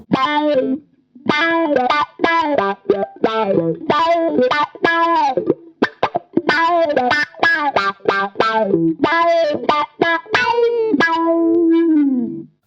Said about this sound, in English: Think of that as with the wah pedal with the toe down more.